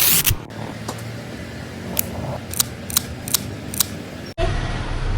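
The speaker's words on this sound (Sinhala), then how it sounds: "නියපොතු කපන්න ඕනි." A cat's nails are trimmed with a clipper, giving about seven sharp, crisp snips spaced irregularly, close and clear over a quiet background.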